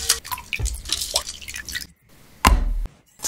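A gutted mackerel, head removed, is rinsed under water in a kitchen, with wet splashing and dripping at close range, a short pause, then a louder burst of running water.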